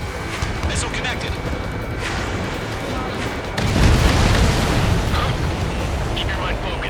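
A missile strikes and destroys an enemy transport in the jet combat game Ace Combat 7, a deep rumbling blast swelling midway through a dense roar of engines and battle noise, with radio voices talking over it.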